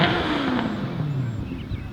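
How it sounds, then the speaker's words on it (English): A sport bike engine revs steadily with a rising, droning pitch, fairly loud and continuous for the whole stretch, with no voices, at the Gettysburg battlefield. "Some guy on a sport bike actually revving his bike."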